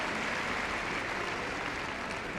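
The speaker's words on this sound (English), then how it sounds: "Let's give him a very big round of applause." Spectators at Crufts 2015 applaud a rescue dog after its agility run, a thick, continuous roar of clapping from a large crowd, steady and loud throughout with no voices standing out.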